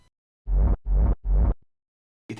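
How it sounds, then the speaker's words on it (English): A layered industrial techno kick noise from a sample pack, with three loud, even, textured bursts of noise that feel almost reversed, each with heavy low end, spaced about a third of a second apart, and a fourth hit starting at the end. "Kick Noise from a sample pack."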